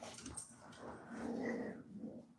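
Dogs growling while fighting indoors: a low, rough growling rumble that swells in the middle, mixed with a few higher yelps, fairly faint and close.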